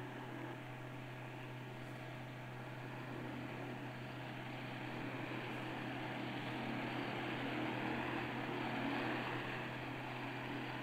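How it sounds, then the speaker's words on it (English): A Convair R3Y Tradewind flying boat backs out of its dock with its propellers reversed. Its engines give a steady, fairly distant droning hum that swells slightly toward the end. "The props are merely reversed, and the huge craft backs out of its berth as easily as an automobile."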